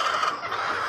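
Layer hens on a poultry farm, about 19 weeks old, cluck and murmur together at feeding time, a dense close chorus of overlapping bird calls in a short burst.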